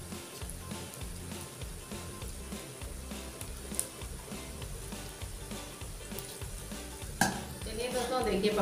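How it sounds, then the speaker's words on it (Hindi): Batter-coated chilli pakoras deep-fry in hot oil, bubbling and crackling continuously up close with light stirring clicks and a brief clatter of a utensil near the end. "तो मिर्चा को भी हम फ्राई कर लेते हैं।"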